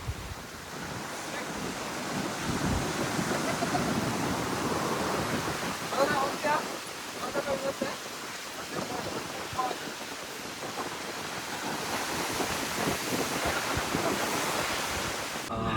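Beach surf and wind roar steadily together in a continuous wash of breaking waves with gusty buffeting, and faint voices occasionally rise in the background.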